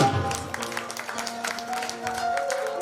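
An audience at a live poetry performance in Jamsher Khas, Jalandhar, claps in a loose, scattered rhythm, moderately loud, with lingering tonal hum and music underneath and no clear speech.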